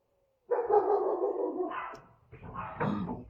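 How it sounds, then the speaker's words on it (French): A dog barks and yips in two close bursts, moderately loud, with a whiny edge and no talking over it. "J'ai mon chien qui aboie."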